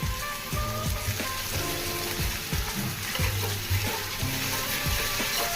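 Prawns with ginger garlic paste and chopped green chilli fry in hot oil in a pan, a steady close sizzle broken by scraping stirring strokes throughout, with no talk.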